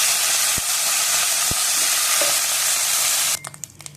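A large batch of curry leaves frying in oil for idli podi: a loud, bright, continuous sizzle with a few stirring scrapes, which cuts off abruptly near the end.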